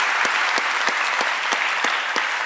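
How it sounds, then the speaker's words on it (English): An audience at an Earth Charter anniversary panel gives a sustained round of applause for the event organizers, a thick wash of clapping with a few louder, sharper claps standing out at regular intervals. "Can we have a round of applause for them?"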